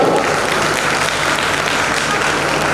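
Dense, loud applause from a large crowd, a continuous roar of clapping that holds steady from start to finish.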